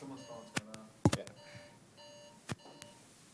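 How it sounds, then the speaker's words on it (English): A phone alarm going off during a university lecture, sounding as a few sharp, bright electronic beeps spread across the room, separated by quieter stretches. "Someone's phone's going off."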